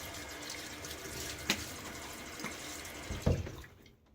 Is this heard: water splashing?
yes